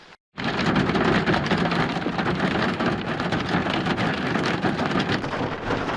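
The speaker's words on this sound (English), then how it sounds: "The rain keeps coming and going." Steady rain pours onto a camping tent during a spring storm in Nevada, a dense, loud, continuous hiss that starts abruptly after a brief quiet moment and holds without pause.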